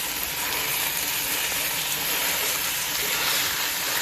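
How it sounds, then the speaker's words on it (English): Ground meat for Bolognese sauce sizzling loudly and steadily in a hot pan with soffritto vegetables, a continuous close crackle with no talking. "we're just going to start to add this ground meat. And allow it to start to cook."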